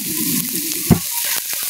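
Bottle gourd leaves fry lightly in a pan. A soft sizzle sits under a series of sharp spatula taps and scrapes, with one thud near the middle.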